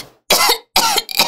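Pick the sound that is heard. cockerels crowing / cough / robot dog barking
cough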